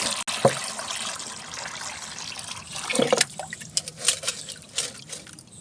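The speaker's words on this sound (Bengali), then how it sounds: "আমি আমার ডিকম্পোস্ট হওয়া খাবারগুলো এখানে মিশিয়ে দিই" Decomposed kitchen scraps being stirred into about one and a half litres of water to make fertilizer for chilli plants; close liquid sloshing and trickling with small splashes and drips, no speech.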